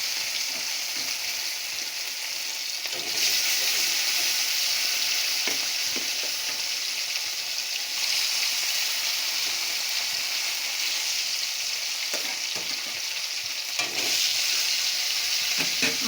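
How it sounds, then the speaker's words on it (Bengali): Snakehead fish frying in hot rice bran oil gives a steady, loud broadband sizzle that runs the whole time, with occasional brief crackles and spatters and no voices. "মাছগুলো লাল লাল করে সুন্দর করে ভেজে নেব।"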